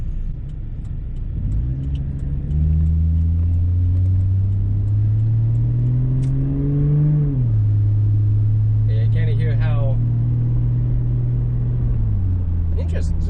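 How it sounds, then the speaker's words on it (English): 2004 GMC Envoy with a 4.2L engine and a FlowMaster Flow FX exhaust while driving, a loud, deep steady rumble that climbs in pitch under acceleration, drops, then builds again, with a voice talking briefly over it. "we'll let you listen to it as we drive around here some."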